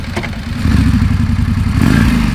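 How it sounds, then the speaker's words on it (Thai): A 2025 Indian 101 Scout motorcycle exhaust roars loudly and steadily, a deep rumbling engine that swells slightly partway through, heard up close. "เสียงกระหึ่ม ของท่อไอเสีย"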